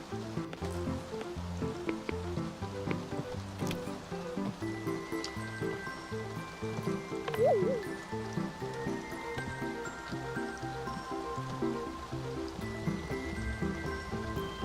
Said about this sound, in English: it's raining. It's really raining.